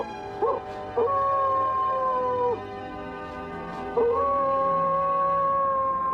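Coyotes howl in Yellowstone with long, sustained, wavering tones that overlap and slide in pitch, loud and steady, rising again after a brief dip.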